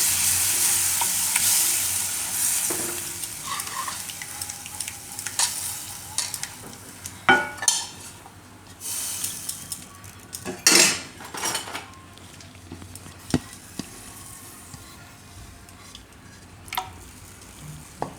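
Yogurt is stirred into a pan over a very low gas flame while making redu. A soft sizzle runs underneath as a spoon scrapes and knocks irregularly against the metal pan, with louder clinks now and then.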